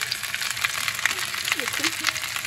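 Cauliflower pieces fry in hot oil, sizzling and crackling steadily up close, while someone speaks softly over the frying.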